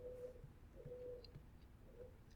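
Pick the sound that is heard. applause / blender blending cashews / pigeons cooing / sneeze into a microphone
pigeons cooing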